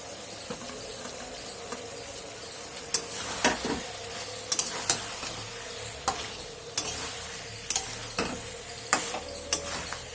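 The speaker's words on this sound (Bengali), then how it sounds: "বেগুনটা দিয়ে একটু নাড়াচাড়া করে নিচ্ছি।" Vegetables fry in a pan for shukto, green banana, potato and drumstick with fried eggplant just added, as a spoon stirs them: a soft continuous sizzle broken by repeated sharp scraping clicks against the pan, close and without talk.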